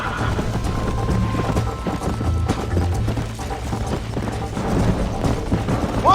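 Horses gallop with steady clip-clopping hooves in the Western video game Red Dead Redemption, loud and continuous across the stretch under a low rumble of game music and ambience, with no talk.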